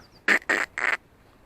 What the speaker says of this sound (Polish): Kwaczki.